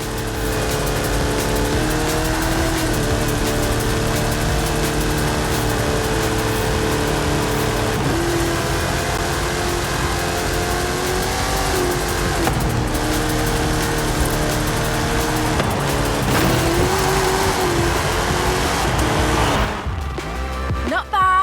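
Hot Wheels race cars roar through a video game circuit, their engines holding a steady, loud drone with rising and falling revs throughout, a voice faintly present beneath.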